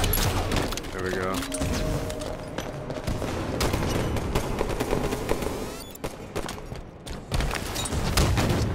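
Halo 5 Team Slayer match on the Fathom map, with a grenade explosion and sustained gunfire forming a dense, loud wash of shots and booms under continuous talking by players.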